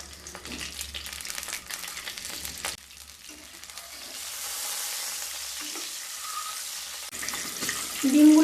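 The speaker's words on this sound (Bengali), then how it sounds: "দিয়ে সেদ্ধ করে রাখা 3 পিস ডিম ভেজে নেব।" Three boiled eggs fry in mustard oil with a pinch of salt in a pan, giving a steady, close sizzle and crackle that grows louder near the end.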